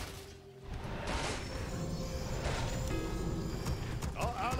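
Horses clip-clopping at a gallop under attack in the Warcraft Reforged strategy game, a steady busy rhythm of hoofbeats with occasional whinnies, whooshes and battle crashes mixed into a dense in-game soundscape.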